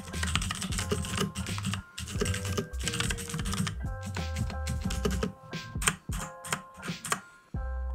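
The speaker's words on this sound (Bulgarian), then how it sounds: "Дайте да направим един бърз саундчек," Typing on a Moto Speed mechanical keyboard with a heavy metal base and tall keycaps, a quick run of clacky keystrokes close up, over a steady background music bed.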